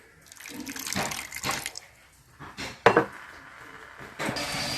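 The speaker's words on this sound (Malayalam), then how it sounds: "വെള്ളം ഒഴിച്ചു കൊടുക്കാം" Water poured into a pan of jaggery for melting splashes and trickles in uneven bursts, close and fairly quiet, with a few clinks in between.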